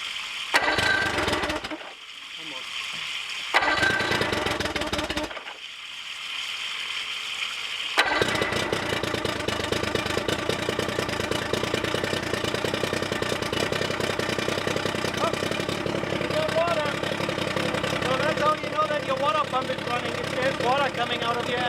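A rebuilt outboard boat motor runs at a steady, close idle for a long stretch after a few brief start-and-stop bursts, with a voice talking over it.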